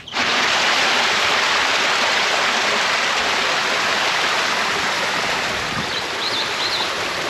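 The Agua Azul waterfall near Puerto Vallarta roars in rainy season, a loud, steady rushing wash of falling water heard up close throughout, with no voices.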